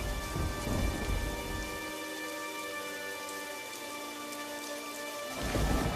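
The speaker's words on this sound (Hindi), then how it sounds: "तभी अचानक से जोर का तूफान आया और बारिश शुरू हो गई।" Heavy rain pours steadily in a sudden storm, with rumbling thunder swelling loud at the start and again at the end over the continuous hiss of the downpour; no voices.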